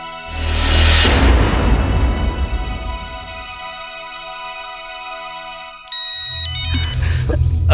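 A phone ringtone sounds loud and near, a tonal melodic ring that swells, fades, then gives way to a brighter electronic chime in the last seconds, with no talk over it.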